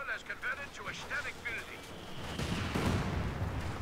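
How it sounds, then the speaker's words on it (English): A rifle grenade explodes in Company of Heroes 2. The blast comes in midway as a loud, broad rumbling burst that lingers to the end, following a stretch of faint battlefield noise and chirpy in-game sounds. "Good rifle grenade."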